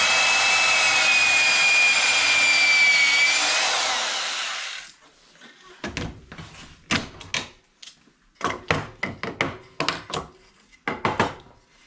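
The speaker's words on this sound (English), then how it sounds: "And you drill a hole like that." A power drill bores a hole in cabinet board for a Ford Transit camper van kitchen, whining steadily for several seconds and dropping in pitch, then stopping, followed by a string of sharp knocks and clunks.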